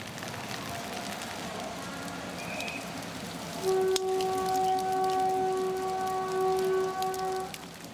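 Heavy monsoon rain pours steadily in central Vietnam, a dense, continuous hiss of drops on surfaces that builds slightly partway through, with a few sustained tonal hums joining in the background.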